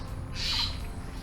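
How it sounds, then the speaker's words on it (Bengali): Two common mynas call on a village road, one short, bright squawking note rising above a low background rumble, fairly close and brief. "বাট যেহেতু দুটো শালিক এখানে ডাকছে"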